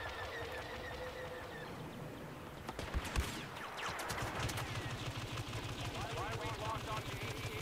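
Blaster gunfire in the Star Wars Battlefront beta, with rapid bursts and sharp crackling shots that peak in the middle, set against continuous game noise and a voice talking.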